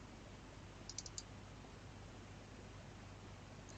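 Several quick, faint clicks from a computer mouse, a double click on a Mac, set against a steady quiet background hiss.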